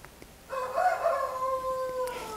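A rooster crows once, nearby and loud, a long drawn-out call that rises and then trails off, heard against a quiet background.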